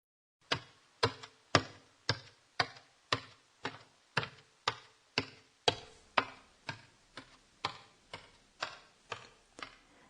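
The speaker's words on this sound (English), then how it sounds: "This is the sound of a person going up the stairs." A person climbs stairs with about twenty evenly spaced, crisp footsteps, each a sharp close tap with a short decay, heard alone in a quiet space.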